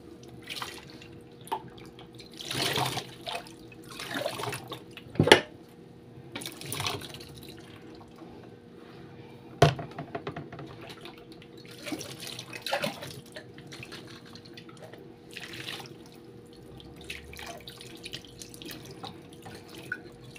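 Tap water running intermittently into a kitchen sink while dishes are rinsed, short bursts of splashing and dripping with clinks between them, close and moderate, no voices.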